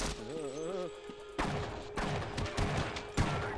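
Gunfire from soldiers fighting in the Half-Life mod Exodus, scattered sharp shots and thuds at moderate distance, with a warbling tonal sound and a steady hum early on.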